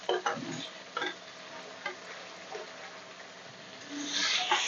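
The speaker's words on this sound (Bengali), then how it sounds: "পেঁয়াজটা দিয়ে দিলাম, পেঁয়াজটা ভালো করে ভেজে নিই" Onions fry in a pan with a soft, steady sizzle, while a few scraping clicks from stirring come through near the start and middle.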